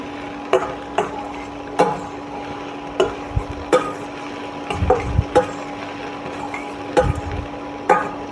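Coriander leaves sauté in a pan with sharp, evenly spaced scrapes and taps of a spatula over a faint sizzle, close and distinct, with a steady background hum.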